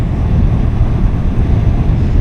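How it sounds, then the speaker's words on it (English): Loud, low wind buffeting a motorcycle rider's helmet microphone at a mountain viewpoint in Mae Hong Son, Thailand, a constant rumbling roar with no pauses and no voices. "Pretty windy."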